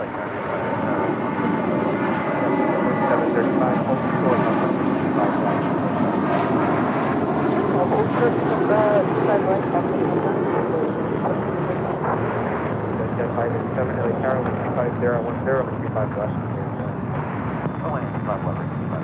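An American Airlines A321 jet departs for Dallas Fort Worth, its engines a loud, sustained roar that rumbles steadily throughout while people talk over it.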